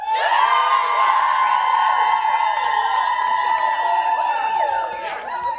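A live comedy-show audience cheers and whoops loudly and continuously at close range, a dense roar of many voices sustained for several seconds before easing slightly at the end.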